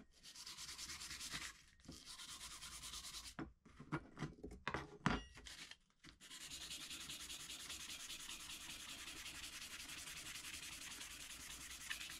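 Wood being sanded by hand with 240-grit sandpaper, a continuous close raspy rubbing that pauses briefly, gives way to a burst of short uneven strokes, then settles back into long steady friction, with no talking.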